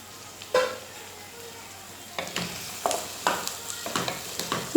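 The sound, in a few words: tomato being added and stir-fried for rava upma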